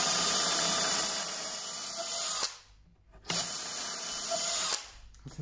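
Power drill countersinking holes in a wooden shooting board, two sustained high-pitched whirring runs close by separated by a brief pause, with no talking.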